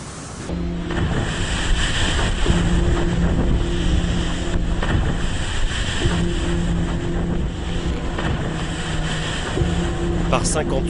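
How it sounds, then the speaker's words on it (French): Wind and sea around the racing trimaran Geronimo in the Southern Ocean, a steady loud rush of wind buffeting the microphone with breaking waves and hull noise, continuous throughout with no clear voices. "La mer est certes plus maniable et le vent moins violent, mais le trimaran doit désormais tirer des bords pour gagner dans l'est"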